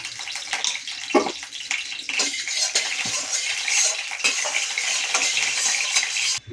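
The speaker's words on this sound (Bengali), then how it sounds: "কড়াইটা গ্রিস করা হয়ে গেছে" A hot kadai being greased with a little oil, with soft metallic scraping and stirring scuffs and a faint sizzle, close and fairly quiet, a few sharper clinks along the way.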